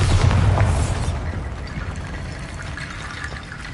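Bombarda spell explosion in the video game Hogwarts Legacy, a deep booming rumble that starts loud and trails off into a rushing, debris-like wash.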